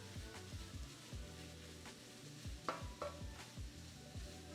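Minced garlic sizzles quietly in a pan with steak for nachos while a utensil stirs and taps against the pan in a loose, repeated rhythm, close and soft.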